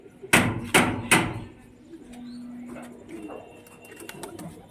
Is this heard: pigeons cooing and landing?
yes